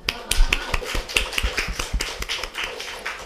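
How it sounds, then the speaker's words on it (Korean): A church congregation clapping in a rough, uneven rhythm, a dozen or so sharp claps over a few seconds, close and fairly loud, with no talking. "박수 한번."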